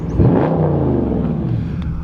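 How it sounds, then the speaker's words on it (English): A powerful V8 engine in a 2021 Dodge Charger Scat Pack Widebody revs up loudly and close by, its deep rumble rising then settling into a throaty, sustained growl. "it definitely gets people's attention when you rev that engine"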